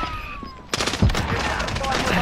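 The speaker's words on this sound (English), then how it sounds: "Somebody's shooting." Gunfire in a zombies battle-royale video game, a burst of shots and impacts starting partway through and continuing as dense crackling, with faint game ambience and no talking.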